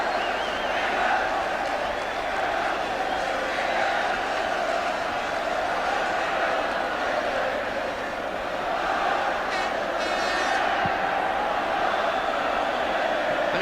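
Large Wembley stadium crowd at a 1978 England v Northern Ireland football match, a steady distant roar of cheering and chanting that swells around the half-time whistle, with a commentator's voice faint underneath.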